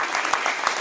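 A lecture audience applauds, a dense, even wash of clapping at steady volume throughout the brief moment.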